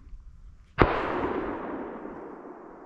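A single shotgun blast fired during an Iowa deer hunt drive, heard from a distance: one sharp report followed by a long rolling echo that fades slowly over a quiet outdoor background.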